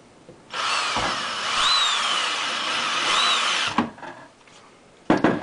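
A power drill driving screws into a window insulator mounting block, a steady high whine that holds for about three seconds, followed by brief clicks and handling noises.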